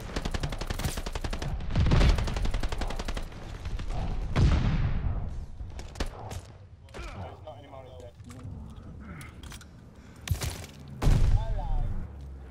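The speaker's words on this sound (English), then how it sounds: "Allies call the bombing run." Bombing run explosions in Call of Duty: Vanguard, with heavy blasts and rattling gunfire bursting through a dense battle mix while players talk over the action.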